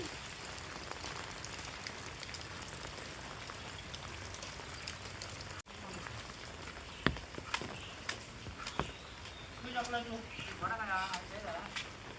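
Heavy morning rain falls in rural Konkan, a dense steady hiss with scattered drops and knocks; a voice speaks near the end.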